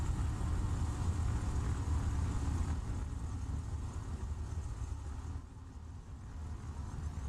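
Piper Chieftain twin-engine drone in X-Plane 12, a steady loud rumble with broad hiss that eases slightly partway through, running alone without voices.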